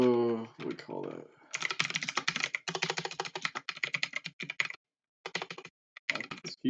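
Rapid clattering keystrokes on a computer keyboard during game development work in the Godot engine, loud and close, coming in dense bursts with brief pauses; a voice speaks briefly at the start.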